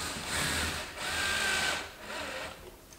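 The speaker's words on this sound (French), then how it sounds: "Donc là on va venir mettre une petite vis ici. Sans trop serrer" A small screw is driven into a bartop arcade cabinet with a power drill, making three short whirring bursts with brief pauses between them, close up and fairly loud.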